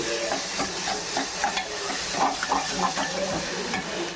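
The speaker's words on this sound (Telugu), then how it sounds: "అల్లం వెల్లుల్లి పేస్ట్ వేద్దామండి. తిప్పుకున్నాం, దాన్ని కూడా పచ్చివాసన పోయేదాకా వేసుకుందాం." Ginger garlic paste and chopped onions fry in a pan for chicken biryani, giving a steady close sizzle broken by repeated scraping stirs, with no one talking.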